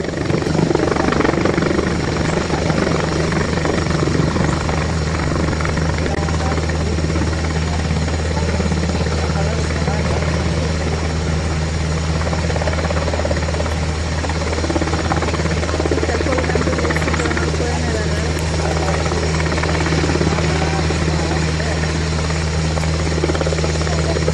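A helicopter drones loud and steady overhead at a rescue scene where people are lifted out by rope, its rotor and engine noise constant and close throughout.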